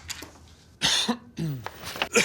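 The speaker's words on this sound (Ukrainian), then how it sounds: "а чого ти так кашляєш?" A man coughs up close in a few harsh, rough bursts with short pauses between them, ending with a throaty clearing.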